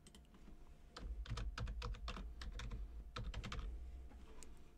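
Keys tapped on a computer keyboard while entering a password, a quick irregular run of close, crisp clicks in two short bursts.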